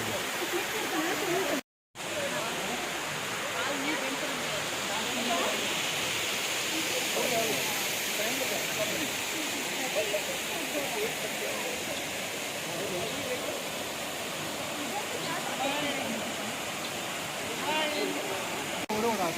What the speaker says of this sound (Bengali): এটাই হচ্ছে এলিফ্যান্ট ফলস হ্যাঁ অনেকটা নিচে নেমে তারপর দেখতে হলো